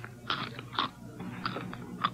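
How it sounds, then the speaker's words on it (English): Children crunch Kix corn cereal close by, with several crisp bites and chewing crunches spaced through a quiet moment and no talking. "Kids like Kix because of its crisp corn crunch."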